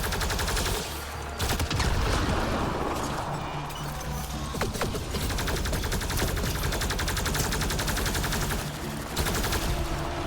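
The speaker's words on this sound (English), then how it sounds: "Stop shooting at me." Dense, continuous gunfire from the Mass Effect Andromeda video game, with rapid overlapping shots and game combat noise held loud throughout and no voice on top.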